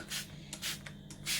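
Red Label white rum is misted from a spray bottle onto a black fruit cake in a few short hissing bursts, close and quiet, with soft pauses between pumps.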